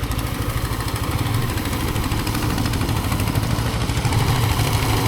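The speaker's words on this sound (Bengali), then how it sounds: "এই যে এখানে মেশিন দিয়ে ধান মাড়াই করা হচ্ছে।" Engine of a paddy threshing machine running outdoors in winter in rural Rajshahi, a steady loud mechanical drone with rapid pulsing, nearby and continuous, no talking.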